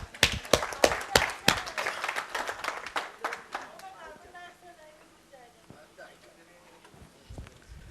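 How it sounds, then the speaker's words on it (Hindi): Audience applause during a talk: a burst of sharp, close hand claps that thins out after about three seconds, followed by a few scattered claps under quieter murmuring voices. "इनके लिए जोरदार तालियां"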